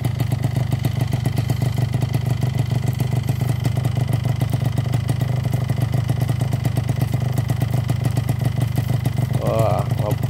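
Kawasaki Ninja R two-stroke motorcycle needing new rings and piston, smoking heavily, idles unrevved with a steady close rapid popping engine beat throughout, with a brief voice near the end.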